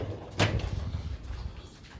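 A tool drawer in a garage sliding open and shut, one quick clattering slide followed by a faint rattle, close and quiet.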